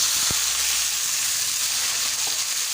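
Onions and garlic fry for a Bengali ghugni in a pan, giving a loud, steady, hissing sizzle that fills the whole stretch, with one brief dull knock near the start and no voices.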